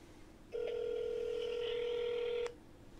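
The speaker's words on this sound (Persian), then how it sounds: "بزن ببینم این یکی تلفن جواب میده یعنی." A single telephone tone sounds clearly for about two seconds, then cuts off and leaves quiet room noise.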